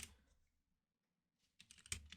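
Quick bursts of computer keyboard typing, close and crisp, with a near-silent pause between an opening flurry and a denser run of keystrokes.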